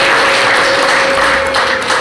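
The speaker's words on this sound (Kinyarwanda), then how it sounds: "mumfashe tubaha amashyi" Guests at a wedding celebration break into continuous applause, a loud, even wash of clapping with a faint steady hum beneath it.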